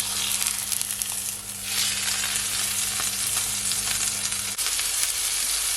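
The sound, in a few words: steak sizzling in pan after being flipped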